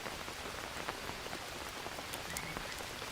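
Steady rain falls on foliage and surfaces in the jungle survival game Green Hell, a dense continuous patter with scattered louder drops and a faint croak, without any voices.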